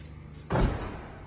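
A Mercedes S-Class car door shuts with one solid, close thud that fades quickly, with a low background hum before it.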